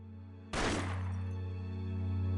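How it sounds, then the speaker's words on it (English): A single sharp gunshot shatters a security camera lens in Persona 4 Arena Ultimax, a sudden loud crack and burst of breaking glass followed by a sustained low hum and ringing. "He fires at the lens of the security camera in the room, shatters to pieces, accompanied by an ear-splitting sound of gunfire."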